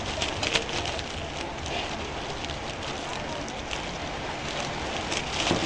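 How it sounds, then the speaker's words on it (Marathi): Heavy rain falling outside a house, a dense, steady hiss of drops on surfaces that holds at an even level throughout with a few slightly louder patches. "काय पावसानं घरातनं बाहेर यायला आणि जोरच लावलं की."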